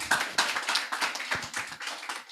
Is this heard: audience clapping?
yes